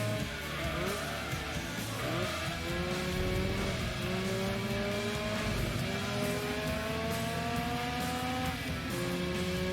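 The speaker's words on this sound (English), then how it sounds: "Gotta rev this thing out." A racing car in Gran Turismo 2 revs hard on its final lap, engine pitch climbing and dropping through repeated gear shifts, with a steady loud drone and a faint tire squeal underneath.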